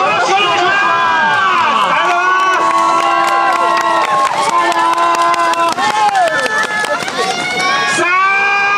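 Festival crowd at an outdoor yosakoi dance event cheers and calls out loudly over amplified music, with shouts and whoops layered densely throughout.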